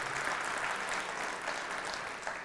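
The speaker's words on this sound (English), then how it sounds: "give her a round of applause to our higher education." A steady, moderately quiet round of audience applause at a community state-of-the-county event, continuous clapping throughout with no speech on top.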